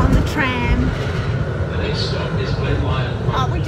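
A Melbourne tram rolls along with a loud, continuous rumble and rattle close by, a few squeals rising over it, while people talk aboard.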